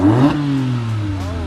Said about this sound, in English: We got the lowriders pulling up.